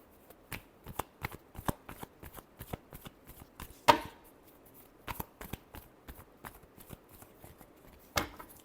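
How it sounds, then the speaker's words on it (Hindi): Tarot cards shuffled in a long run of quick riffling bursts, crisp dry flutters repeating every half second or so, close and alone with no voices. "last shuffle"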